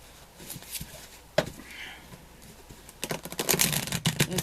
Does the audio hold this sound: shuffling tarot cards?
yes